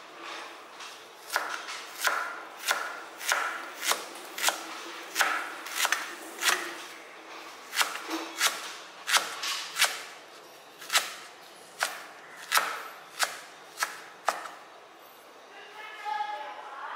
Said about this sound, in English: Make sure that it's thin. And you slice the ginger.